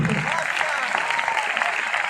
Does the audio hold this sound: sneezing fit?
no